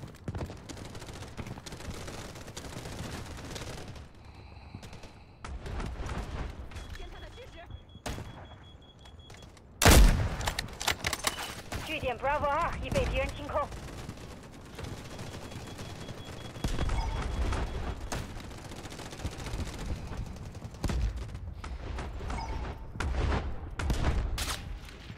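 Scattered gunfire in the shooter video game Delta Force, with sharp shots and bursts spread across a long stretch, one especially loud blast near the middle, amid other game noise.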